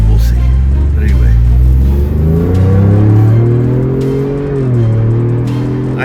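A Ford Bronco engine with performance upgrades revs hard and close, a deep rumble climbing and falling in pitch for several seconds, with voices faintly underneath.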